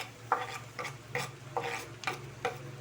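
Chopped onion stirred in a hot pan with garlic and chicken, a utensil scraping in five or six rhythmic sweeps over a soft, steady sizzle close by, with no talking.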